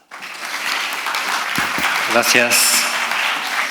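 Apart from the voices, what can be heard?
audience applause welcoming a speaker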